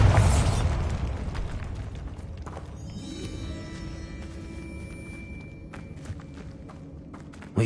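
A Bombarda spell explosion in a Harry Potter video game, a loud booming blast right at the start that decays into rumbling debris and scattered crackles, with faint game tones afterward.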